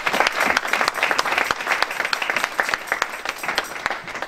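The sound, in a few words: congregation applauding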